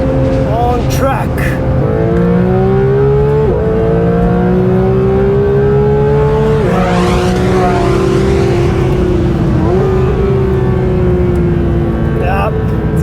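A Porsche GT3 RS in manual mode revs out toward 9,000 RPM on the Mantorp Raceway circuit: a loud, close engine scream climbing through repeated upshifts, each gear rising in pitch before dropping, with short breaks between shifts.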